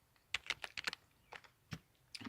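Quick bursts of keystrokes on a computer keyboard while CSS code is typed, close and crisp, in uneven clusters of taps with short pauses between.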